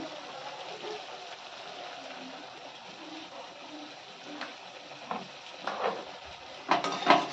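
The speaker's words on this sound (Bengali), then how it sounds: "মশলাটা ভালো করে কষিয়ে নিতে হবে" Masala for a large-fish curry is stirred and sautéed in a pan with coriander powder and salt. It gives a steady soft sizzle with scraping stirs, and a few clinks of the spoon against the pan come near the end.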